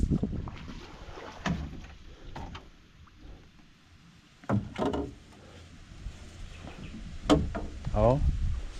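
A large wooden fishing outrigger boat with a diesel engine moves over the water, a steady low rumble and wash running throughout, with people talking intermittently nearby.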